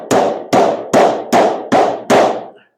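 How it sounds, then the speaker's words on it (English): Six sharp hammer blows on the steel of a cattle hay ring under repair, evenly spaced about half a second apart, loud and close, each ringing briefly before the next strike, with no talk. "You can keep manipulating it with that hammer"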